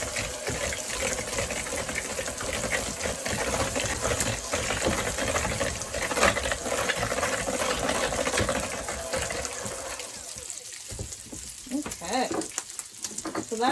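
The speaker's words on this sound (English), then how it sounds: "I'm going to cream the bananas into this." Electric mixer creaming bananas into batter in a home kitchen, a steady whirring, gritty churn that continues loudly throughout, easing slightly near the end.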